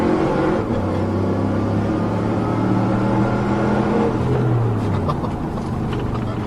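A Subaru STI fitted with a Magnuson supercharger runs on a dyno, its engine droning steadily with a rising then falling tone and a whining overtone, loud and continuous throughout.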